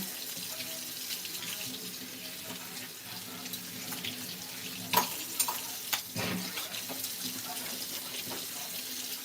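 Tap water runs steadily into a kitchen sink for washing, a soft continuous hiss, with a few clattering knocks near the end, and faint sizzling and frying from the stove underneath.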